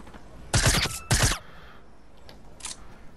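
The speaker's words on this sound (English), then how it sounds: "suppressed submachine gun." Two short muffled bursts from a suppressed submachine gun in a video game, clipped and close, followed by faint quiet clicks.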